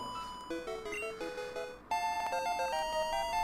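Low health alarm in Pokemon Red sounds as a repeating electronic beep pattern, steady two-tone chiming loops that continue without pause and grow louder partway through.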